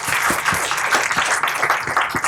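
A crowd applauds the panellists at the close of an education panel discussion, dense steady clapping from many hands, loud and close throughout with no pause.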